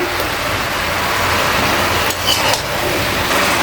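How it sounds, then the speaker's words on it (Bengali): Chilli powder stirred into gota chochchori in a pan, with a spoon clattering and scraping against the metal over a constant loud sizzle, close and without a break. "লঙ্কা গুঁড়ো দেওয়ার পর আমি ভালো করে নেড়ে নেবো এটা"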